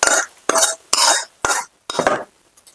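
Onions being sautéed in a pan for onion rasam, five quick rhythmic scraping stirring strokes with short pauses between, close and fairly loud.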